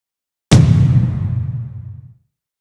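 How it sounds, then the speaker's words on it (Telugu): A single loud Diwali night firecracker bomb blast: a sudden sharp crack followed by a deep rumbling decay lasting about a second and a half, then silence. "ఈ బాంబు అయితే భయంకరంగా పేలింది చూడండి"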